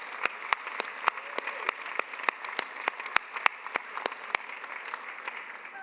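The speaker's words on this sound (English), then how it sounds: "Let's have another round of applause for Amiz Baco" Sparse, rhythmic clapping from a few people at a Habitat for Humanity house party, honoring the Volunteer of the Year award; distinct individual claps spaced evenly over a low room murmur.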